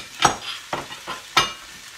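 Diced tomato and cooked shrimp stirred in a sizzling sauté pan, with a few distinct scraping stir strokes over a soft frying hiss, close and moderately loud.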